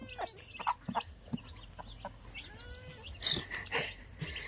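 Rhode Island Black chickens cluck and squawk nearby in short irregular bursts, with other farmyard noise faintly in the background and no talking.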